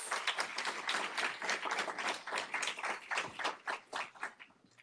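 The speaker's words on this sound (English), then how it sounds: "Let's give her another round of applause" Applause from a convocation audience at Hudson County Community College for a speaker named Nicole, dense continuous clapping across the hall that thins out toward the end, with no voices over it.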